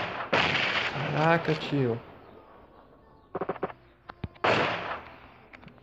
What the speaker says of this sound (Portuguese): é da hora, viu, atirar com essas armas